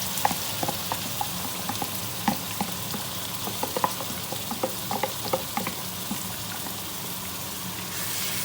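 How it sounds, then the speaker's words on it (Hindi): Onion paste fries in hot oil, a continuous close sizzle broken by repeated clicks and scrapes of stirring, with no voices. "अब हम इसमें प्याज की जो पेस्ट बनाई है वो ऐड कर देंगे।"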